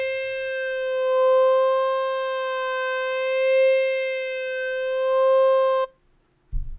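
A vowel filter effect circling through vowel sounds on a steady synth tone, its timbre shifting in slow waves for about six seconds before cutting off abruptly, leaving a short low thump.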